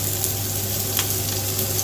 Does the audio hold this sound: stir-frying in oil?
yes